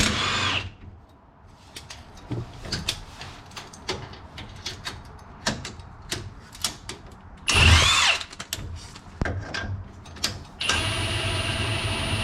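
Impact wrench driving a 19 mm bolt while a leveling kit is removed from a vehicle, sounding in repeated short rattling bursts among clanks and handling noise, close and fairly loud.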